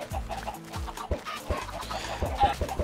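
Chickens on a chicken farm in the video game Minecraft, repeated clucks and short squawks from several birds, fairly close and moderately loud, with no talking.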